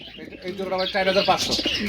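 Black Diamond pigeons, a breeding pair, coo softly in short, throaty bursts close by, with a few faint chirps mixed in.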